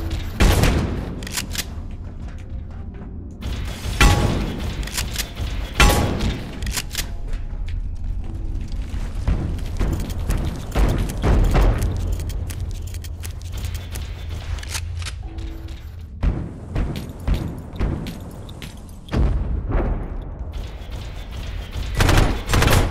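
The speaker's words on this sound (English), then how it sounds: "That was the fire grenade." Fire grenade exploding in the game Abiotic Factor, amid a loud stretch of repeated booms and bursts of gunfire-like combat noise with several heavy thuds spread throughout.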